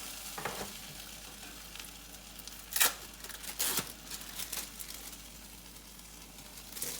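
Bread and egg fry in a pan for a bacon, egg and cheese sandwich, giving a steady soft sizzle broken by a few louder scraping and flipping noises.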